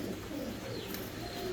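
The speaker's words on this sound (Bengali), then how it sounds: "এটা একটা রানিং কবুতর" A running pigeon coos softly and faintly against a low background hum, a brief and quiet call.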